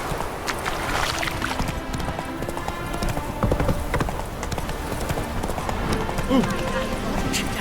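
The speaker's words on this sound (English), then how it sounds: "Whoa there, Roach. Come on, Roach." A horse's hooves clip-clop in a steady trotting rhythm in The Witcher 3 video game, while a voice talks over the hoofbeats.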